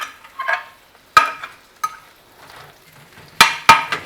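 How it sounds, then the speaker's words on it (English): Roast new potatoes stirred in a hot pan, a few sharp clinks and scrapes of the spoon against the pan breaking up a soft background sizzle, close and fairly loud. "Just give the potatoes a stir over. We want some roastiness on everything."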